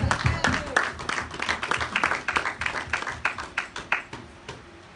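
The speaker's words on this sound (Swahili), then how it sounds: "Hebu tumpigie Mungu makofi kwa hiyo sentensi jamani" A church congregation bursts into applause, dense overlapping claps rising quickly and then thinning into scattered, uneven hand claps near and far.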